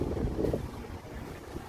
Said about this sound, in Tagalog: Doon lakas ng hangin.